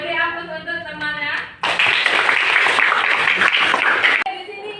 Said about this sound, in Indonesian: silakan beri aplaus untuk temannya